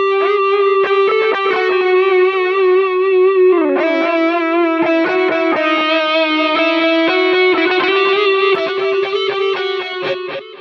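A synth melody runs through a free lo-fi, analog-style delay plugin, bright sustained notes trailed by echoing repetitions that layer and smear, loud and alone throughout.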